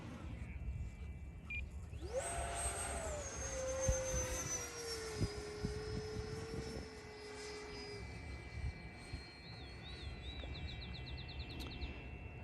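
An FMS Rafale 80mm RC electric ducted-fan jet fitted with new thrust tubes makes a high-speed pass, its whine rising sharply, then falling in pitch as it moves away, with wind noise in the background.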